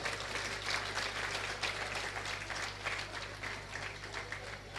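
An audience at a colony community event breaks into dense, continuous applause, many hands clapping together at close range for the organizing team, without any talk over it.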